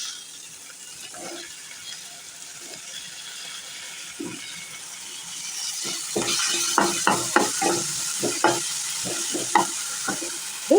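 Cut potatoes are tipped into a pan of frying onions and green chillies: a quiet background sizzle, then a run of distinct scraping stirs and clattering knocks of a spoon against the pan, fairly close and steady, with no talking.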